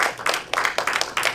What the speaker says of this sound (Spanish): Dale un aplauso al Rey de los Cielos.